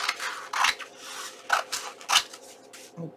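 Scissors trim a folded strip of paper for a page snippet roll, giving several crisp, close snips at an uneven rhythm with short pauses between cuts, and no talking.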